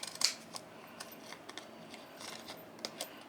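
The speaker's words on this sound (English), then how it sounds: "I'm going to cut off a little bit of that one." Scissors snipping paper while trimming handmade DIY postage stamps, a crisp opening cut followed by a series of light, close, irregular snips with no talking.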